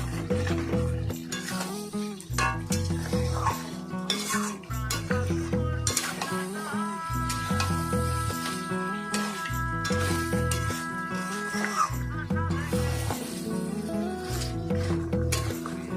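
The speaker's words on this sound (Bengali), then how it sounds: "চর্বিটা আমি মাংসের সঙ্গে ভালোভাবে মিশিয়ে নেব।" Mutton and goat fat fry in a kadai, a loud steady sizzle under rhythmic scraping and stirring strokes of a spatula against the metal, with occasional clinks, continuous throughout.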